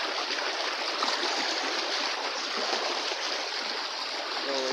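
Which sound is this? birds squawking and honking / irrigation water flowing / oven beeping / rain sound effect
irrigation water flowing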